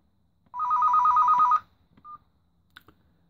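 A rare Finnish Benefon Forte NMT brick phone plays its ringtone, a loud warbling electronic trill for about a second, followed by a short single beep and a few faint clicks.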